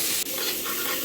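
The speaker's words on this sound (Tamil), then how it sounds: "நல்லா வெங்காயம் வதங்கிடுச்சுங்க" Small onions sauté in a pan for a chicken curry, a dense bright sizzle with a brief stirring scrape near the start, close and steady for about a second.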